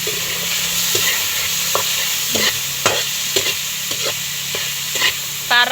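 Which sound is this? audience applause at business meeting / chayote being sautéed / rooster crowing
chayote being sautéed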